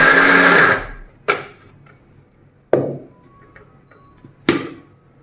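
A mixer grinder whirs loudly for about a second while grinding a chicken and potato mixture, then stops. Three sharp clunks follow, spaced apart, with quiet between them.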